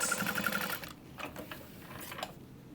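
A sewing machine top stitches a bag panel in a fast, even burst of stitching that stops after about a second, followed by a few light clicks and rustles of fabric being handled.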